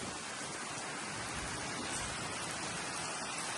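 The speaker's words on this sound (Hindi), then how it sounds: "ये हो गई बारिश स्टार्ट" Rain beginning to fall during Muharram in Moro, a steady even hiss of drops on surfaces, faint and continuous with no voices.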